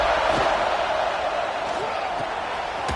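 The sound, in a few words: stadium crowd noise in a football video game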